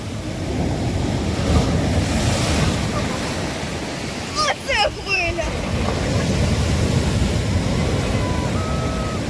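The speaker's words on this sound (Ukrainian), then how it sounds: "Треба трошки почекати, хай стихне хвиля. Занадто сильна." Strong sea waves crash continuously on a Turkish shore, a loud broadband surf roar mixed with wind buffeting the microphone, with a brief chirpy sound near the middle.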